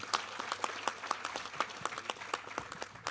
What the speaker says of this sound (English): So please, a warm applause for the task force members.